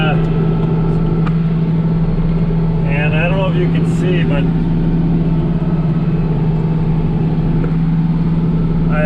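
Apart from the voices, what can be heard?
tractor engine running while driving home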